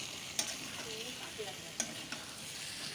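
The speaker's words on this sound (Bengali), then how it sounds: "ডিম আলু ভালো করে কষিয়ে নিলাম, ভালো করে লাল লাল করে কষিয়ে নিয়েছি।" Egg and potato curry masala being stir-fried in a pan, a soft steady sizzle with a couple of sharp spatula clicks against the pan, no talk.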